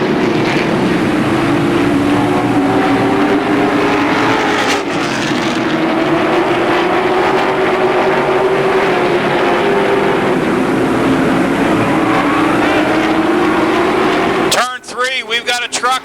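Race cars roar around the Motordrome Speedway oval in a pack, a loud continuous engine drone that rises and falls as they pass, with an announcer talking over it and a sudden burst of noise near the end.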